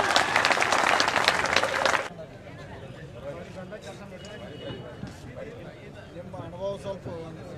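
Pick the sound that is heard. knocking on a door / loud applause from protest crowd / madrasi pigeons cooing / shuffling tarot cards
loud applause from protest crowd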